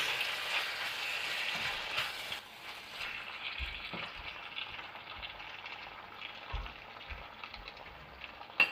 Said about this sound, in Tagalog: and add oyster sauce. Stir fry for 5 minutes